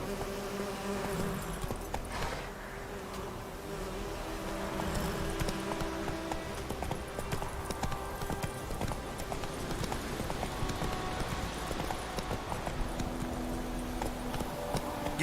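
Roach the horse galloping in The Witcher 3, a quick, steady clip-clop of hooves running throughout at moderate volume, with faint buzzing ambience in the background.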